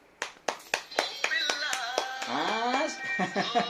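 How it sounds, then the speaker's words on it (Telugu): Children clap in sharp, evenly spaced bursts that settle into a quicker, softer patter, close by, while a voice sings and talks over the later claps. "Wow super claps for your self."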